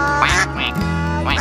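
A duck quacks several times in loud, nasal calls, close by and alone, in a short uneven series of honking bursts.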